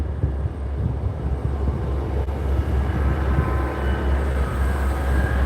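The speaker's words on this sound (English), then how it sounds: "So to my right, we've got the whole train" Steady low rumble of a train at Peterborough railway station in Cambridgeshire, a continuous loud drone with faint higher tones, heard close by on the platform with no talk.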